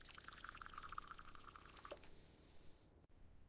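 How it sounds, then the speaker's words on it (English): Hot coffee pours steadily into a mug for about two seconds, a faint, thin trickling stream that ends abruptly and leaves quiet room tone. "I pour the hot coffee into the mug."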